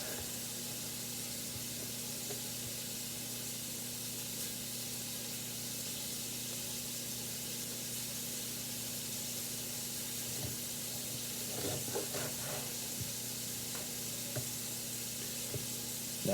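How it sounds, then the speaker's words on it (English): Chunks of a 3-pound beef chuck sear in a hot pan, giving a steady, even sizzle throughout with a low electrical hum beneath and a few faint clicks near the end. "I'm going to get easily like 10 to 12 pieces of meat I have to sear off"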